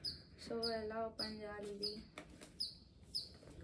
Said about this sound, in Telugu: మీకు వినిపిస్తుందా? బయట ఒక చిన్న పక్షి అరుస్తుంది అనమాట.